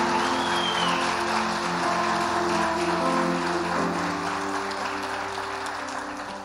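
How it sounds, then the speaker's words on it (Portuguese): A church congregation at a live worship service applauds strongly, dense continuous clapping like rain, loud throughout and fading slightly toward the end, with faint music underneath. "Então dá uma salva de palmas ao Senhor, daquela bem forte"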